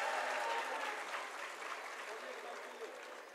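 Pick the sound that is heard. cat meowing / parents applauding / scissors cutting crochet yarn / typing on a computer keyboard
parents applauding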